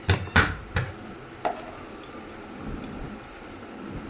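Whole cumin seeds and bay leaves dropped into hot mustard oil, giving a few sharp close crackles and pops near the start, then fainter sporadic sizzling ticks.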